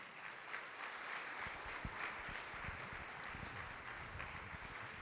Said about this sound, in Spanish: Den un aplauso a la gloria de Dios